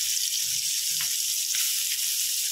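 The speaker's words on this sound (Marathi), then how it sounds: "आता अंडी फ्राय करते।" Boiled eggs fry in leftover masala oil in a pan for dhaba-style anda masala, giving a steady close sizzle and hiss throughout with a few faint low bumps and no talking.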